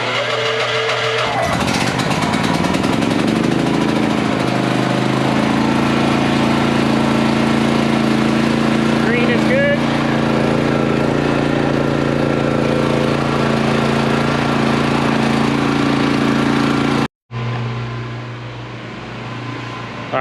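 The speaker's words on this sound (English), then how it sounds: "I went ahead and moved the generator outside, super loud." A portable generator with electric start, powering a budget mobile welding setup, runs outside with a loud, steady engine drone. The drone briefly cuts out near the end, then returns somewhat quieter.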